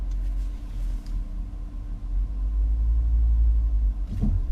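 A 2017 Ford Escape's engine firing back up after an auto stop when the light turns green, a low, smooth rumble swelling inside the cabin with no talk.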